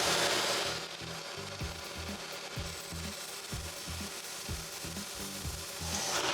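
A golf wedge shaft tip is ground to roughen its surface, giving a steady rasping, rubbing grind with a regular pulsing rhythm, close and continuous throughout.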